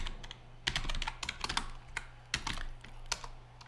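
Close keystrokes on a computer keyboard come in quick irregular bursts with a few heavier taps, over a low steady hum and with no talking.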